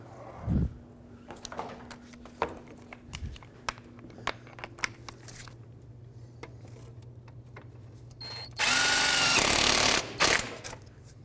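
Engine mount bolts on a 2002-06 Toyota Camry are tightened, giving scattered metallic clicks and taps with a few louder knocks, then a loud buzzing power-tool burst of roughly two seconds near the end.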